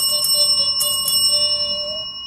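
A bright subscribe-notification bell sound effect rings in quick, clear chimes with a sustained metallic shimmer, loud and alone with no talking.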